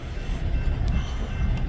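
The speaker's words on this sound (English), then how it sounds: "here comes the express train" An express train rumbles through the BNSF Hinsdale station, a steady low roar that builds and holds throughout.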